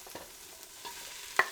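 Chopped green pepper dropped in with sauteing onions for a Christmas chili, a faint low sizzle under a few soft stirring scrapes and one sharper clink near the end.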